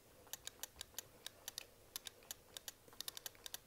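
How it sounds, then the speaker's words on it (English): Sharp microswitch clicks from the joystick of an Xarcade arcade stick, one of whose switches makes poor contact, in an irregular run of close, distinct taps, some in quick pairs, over a quiet background with no talking. "I don't know if you can hear the clicking"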